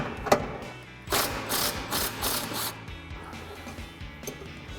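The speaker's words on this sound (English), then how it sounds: "I'm going to take a 21 millimeter here on my impact gun" An impact gun fitted with a 21 mm socket removes rear bumper bolts on a 2017-2022 Ford F-250, with a close burst of rapid rattling hammering after a sharp click, then quieter mechanical noise.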